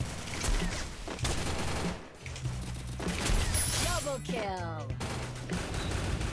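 Rapid gunfire from a ranked match in a first-person shooter video game, bursts of shots and a triple kill crackling loudly and steadily throughout with game effects and background music.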